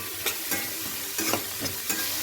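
A spoon scrapes and stirs a sago khichdi mixture with curry leaves and salt in a pan, making repeated rhythmic scraping strokes with a soft sizzle underneath, close and alone without talk.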